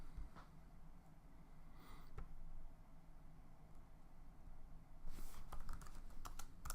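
Someone types a folder name on a computer keyboard, bursts of light close key taps separated by short pauses, quiet with faint room hum and no talking.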